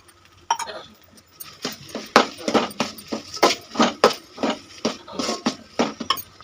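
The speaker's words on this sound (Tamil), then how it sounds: "ரவை, பாசிப்பருப்பு, தேங்காய் இது 3த்தையும் நல்லா மிக்ஸ் பண்ணிக்கலாம்." A spoon stirring semolina, moong dal and grated coconut together in a pan, a steady run of scraping, clinking strokes in a quick uneven rhythm, close and clear with no voices.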